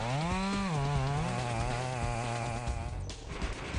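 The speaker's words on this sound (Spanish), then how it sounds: "los trabajadores equipados con motosierras se adentran en los terrenos para trabajar" A chainsaw cuts timber in a forest logging operation, its engine revving high then settling into a steady loud droning whine before dropping off, close and alone.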